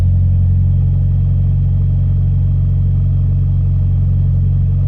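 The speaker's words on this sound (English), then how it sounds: "I know the car's making a racket" A parked car's engine rumbles steadily and loudly at close range, a constant low drone with no talking and no change in pitch.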